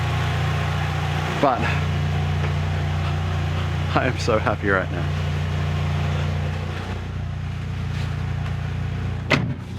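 An EVO's engine idles steadily with a quiet exhaust, a low, even rumble running throughout beneath a person talking.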